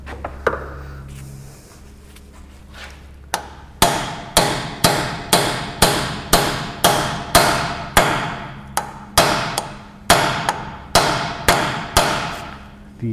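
Ball joints being hammered into a Jeep's steering knuckle, a steady run of loud metallic hammer blows at about one per second after a few lighter taps.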